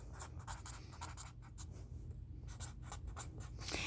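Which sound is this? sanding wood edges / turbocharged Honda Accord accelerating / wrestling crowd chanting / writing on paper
writing on paper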